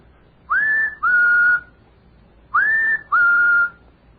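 A man whistles a two-note bird call imitation, a rising slide into a held tone followed by a flat held tone, then repeats the pair once, loud and close with nothing else around it.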